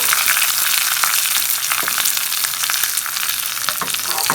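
Tempering for a Tamil street-cart thanni chutney, with dried red chili, curry leaves and asafoetida frying in hot oil. The close sizzle is loud and crackling, with sharp spits and pops.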